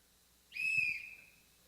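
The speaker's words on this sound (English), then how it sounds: "give me the loudest whistle blow you can do" One loud, sharp whistle blown by a person in a keynote conference hall, a single clear piercing note of under a second that trails off, with no talking.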